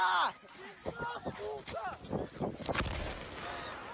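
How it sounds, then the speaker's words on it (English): A drone explodes close by in Russia, caught on a citizen's phone: a sharp, broad burst near the end rises through excited voices that talk over most of the moment. "And there's the explosion right there."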